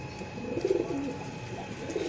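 Breeder pigeons at a loft in Bhati Gate, Lahore coo nearby in low, throaty rolling calls, a couple of distinct bursts over a steady faint background hum, with no voices.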